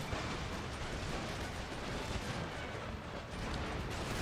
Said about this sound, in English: These regiments are putting fire down here.